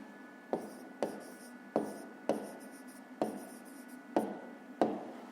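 A pen writes on paper during a fifth-grade math exercise: short scratchy strokes arrive in a regular series of about eight, each starting with a sharp tap and fading, close and clear with no talk.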